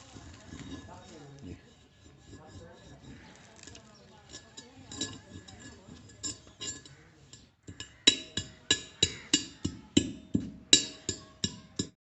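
A mercury mixture is ground by rubbing in a mortar, heard as dry scraping and then a run of sharp, regular clinks. Someone talks quietly at the start.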